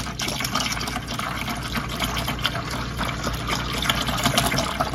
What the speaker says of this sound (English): we're gonna pour this right in our bucket and then put 5 parts of water in there with it